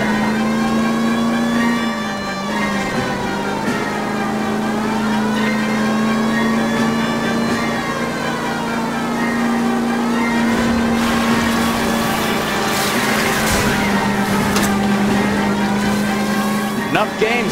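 A car engine in the 1940s Los Angeles detective game L.A. Noire drones steadily throughout a chase, its pitch rising and falling as it accelerates, loud and close, with voices talking over it at times.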